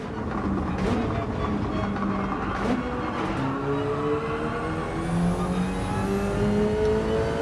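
Gr3 race car engine in Gran Turismo at Spa-Francorchamps with dynamic weather, a steady sustained drone whose pitch slowly rises and falls as the car holds speed through a long corner, with no talking.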